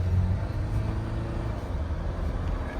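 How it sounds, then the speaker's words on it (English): A Jeep Wrangler 4xe pulls out onto a road with a steady, close, low engine and road rumble that holds even throughout, with no talking. "So we're going to pull out here on a road that is going to allow me to go a little bit faster."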